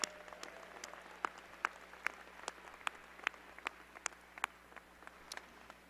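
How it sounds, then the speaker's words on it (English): Scattered, sparse clapping from a graduation ceremony audience at a business school commencement, individual claps spaced irregularly and fairly quiet against a low hum. "Could you please give another round of applause?"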